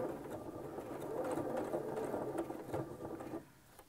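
A sewing machine stitches steadily across a fabric napkin's mitered corner, its close, even whirr running for a few seconds before stopping abruptly.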